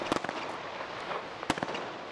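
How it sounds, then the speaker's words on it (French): Fireworks go off inside the Cattenom nuclear power plant near the spent-fuel pool, sharp bangs and crackles, two clear bursts amid a rumbling, echoing background. "Ils s'approchent de la piscine d'entreposage et déclenchent des feux d'artifice."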